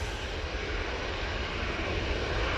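A Jet2 Boeing 737-800 on its takeoff roll at Manchester Airport, a steady, loud broadband jet roar with a deep rumble underneath, heard from a distance and holding constant throughout.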